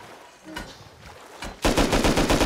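Gunfire in the survival video game Rust: a few scattered shots, then a loud, rapid automatic burst of repeated cracks at close range, with no talking over it.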